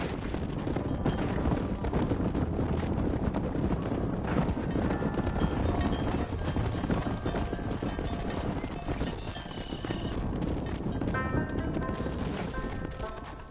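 Horses gallop with steady clip-clopping hooves in a Western-style video game, a dense, continuous rhythm that stays loud throughout, mixed with game ambience and faint crackling like distant gunfire.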